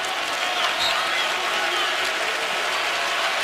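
Basketball arena crowd at an Indiana home game against Duke roaring and cheering in a steady, dense wash of noise, loud and continuous throughout.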